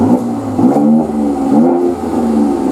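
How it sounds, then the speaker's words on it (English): A Mercedes C43 AMG with a 3.0L engine and sports exhaust gives a quick throttle blip, the close, loud exhaust note rising and falling twice over a steady idle. "the sports exhaust is there, so I'll just give you a quick blip on that."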